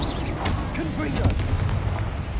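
A Confringo blasting spell in Hogwarts Legacy bursts with a booming, popping explosion amid further spell impacts and combat noise, heard close and loud alongside a voice.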